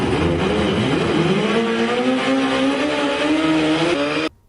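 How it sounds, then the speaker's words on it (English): A turbocharged Suzuki Hayabusa of about 500 horsepower roars loud and close at sustained high revs, its engine note climbing steadily before cutting off abruptly at the end. "The Ghost Rider's Turbo Busa is estimated to produce about 500 horsepower"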